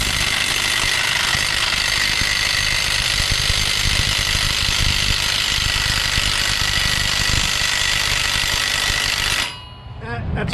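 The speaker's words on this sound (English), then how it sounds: "See if the WAKYME is able to take these caliper bracket bolts out." A WAKYME half-inch electric impact wrench hammers continuously on tight brake caliper bracket bolts in an auto shop, a loud steady rattling whine that holds for about nine seconds and then cuts off abruptly.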